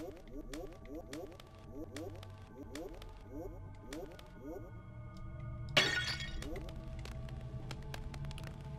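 In the dungeon game Lunacid, a single clay jug bursts with a sharp, bright crash after several seconds of rhythmic footsteps and low ambient hum.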